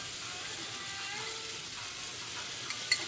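Butter sizzles in a frying pan with bananas and mango, a steady, faint crackling hiss running unbroken throughout, with a small pop near the end.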